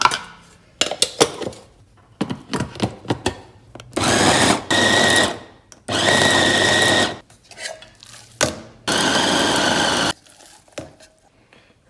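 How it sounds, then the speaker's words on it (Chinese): An electric meat grinder mincing chopped pork, with several loud, steady whirring bursts of a few seconds each, separated by short clattering handling noises and pauses. "然后咱们把这个切好的这个猪肉再放到这个绞肉机中"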